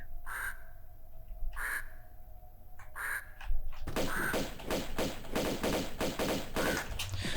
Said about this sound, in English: There'll be another bird that spawns here.